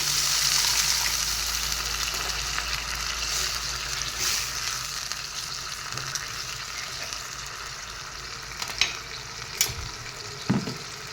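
Fish and carrot curry sizzles and fries steadily in a pan as a little water is poured in, with a few sharper spits and pops near the end and no talking.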